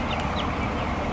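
Young chicks on a large chicken farm with about 15,000 birds, a dense, steady chatter of many small cheeping and clucking voices filling the air close by, with no pauses throughout.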